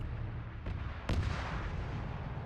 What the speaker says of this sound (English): these guys just heard a bunch of explosions